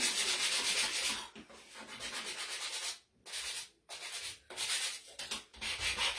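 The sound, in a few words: sanding acrylic-painted gingerbread man ornament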